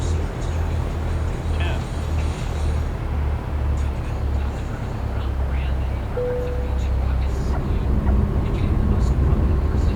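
X-Plane flight simulator aircraft coming in to land on a runway, a steady low engine drone and rumbling noise that holds continuously throughout at moderate level.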